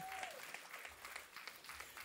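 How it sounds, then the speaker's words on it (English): A small gathering claps for a son-in-law called up at a pastor's 70th birthday and 40th wedding anniversary celebration, a faint, distant patter of applause with a voice briefly heard. "Round of applause for Omar, son-in-law."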